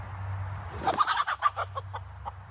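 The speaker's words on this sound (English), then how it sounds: "It's too early in the season for this hen to go broody." A broody hen clucks and churrs in a rapid run of low, throaty notes, close and fairly loud over a steady low hum, with no talking.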